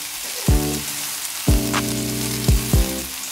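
A full bag of broccoli and other vegetables stir-fries in oil. A steady hiss of frying is broken by four resonant clunks of a utensil against the pan, close and fairly loud.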